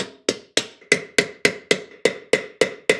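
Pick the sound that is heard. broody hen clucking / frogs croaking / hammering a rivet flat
hammering a rivet flat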